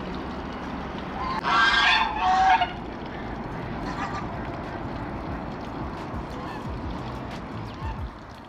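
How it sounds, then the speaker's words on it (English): Geese honk loudly in a short burst of several calls close by in a rural village yard in China, then fall quiet over steady outdoor background noise. "I want geese so much, but they're so loud."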